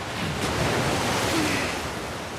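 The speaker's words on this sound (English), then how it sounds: "I don't know if we're going to have the same thing where the waves are going to push us." Ocean waves in The Last of Us Part II, a steady roaring wash of surf that swells and eases, close and loud, mixed with wind and no talking.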